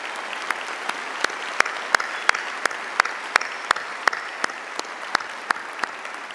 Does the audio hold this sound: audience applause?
yes